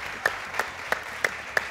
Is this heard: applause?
yes